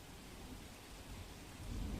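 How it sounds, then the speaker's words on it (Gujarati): Heavy rain pours over Vadodara city, a steady broadband wash of downpour with a low rumble swelling near the end. "વડોદરા શહેરમાં ધોધમાર વરસાદ વરસી રહ્યો છે"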